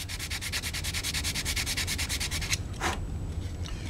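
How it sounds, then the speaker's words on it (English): A hard sanding block with 220-grit paper scrubs a motorcycle fairing surface in fast, steady back-and-forth strokes, close and loud for about two and a half seconds before stopping, followed by one brief scrape. "Now what's real handy to have is a hard sanding block, some 220 paper"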